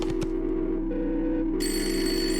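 Haunted telephones ringing in the video game Jimmy and the Pulsating Mass, steady electronic rings at different pitches overlapping, with a new higher ring joining partway through, loud and close.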